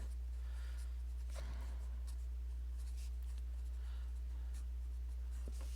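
A pen scratches across paper or a board while a math equation is written out by hand, with short strokes heard faintly over a steady low electrical hum and no talk.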